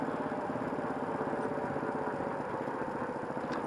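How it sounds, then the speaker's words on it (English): A Honda Hawk 250 motorcycle engine rumbles at a steady idle, its exhaust putting out a continuous low throaty drone with faint mechanical clatter, close by. "I get more muffler noise on this one for sure."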